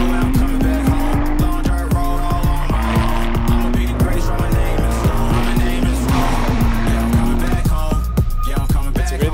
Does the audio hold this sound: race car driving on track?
yes